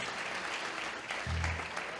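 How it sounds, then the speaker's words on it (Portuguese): A church congregation gives a round of applause for the worship band, sustained clapping from many hands at moderate distance, with a low instrument tone entering partway through. "Uma salva de palmas para essa banda aqui,"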